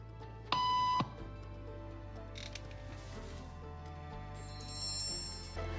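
A series of electronic beeps signals people in a conformity experiment: one clear, loud tone lasting about half a second, followed by fainter clicks and mechanical sounds over a quiet room background, with no voices.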